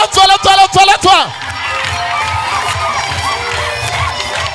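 A church congregation at a prophecy and healing service erupts in sustained cheering and shouting after a preacher's loud speech, a dense, steady crowd roar filling the room.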